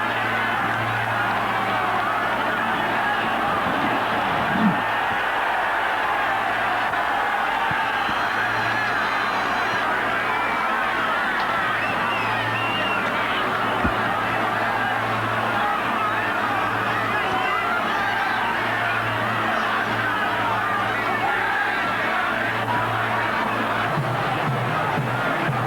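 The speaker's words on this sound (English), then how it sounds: "to the boos of the crowd, it's going to be a try here" Rugby league crowd at a 1999 Leeds versus Wigan club match, a steady roar and boo from the stands spread evenly through the whole stretch, with a commentator's voice running over it.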